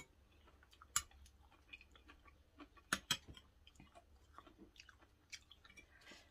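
Someone eats soft boiled vegetables with Thai chili paste made with garlic and small fish, producing quiet, sporadic crunching and chewing clicks at close range in a calm room, with no voices.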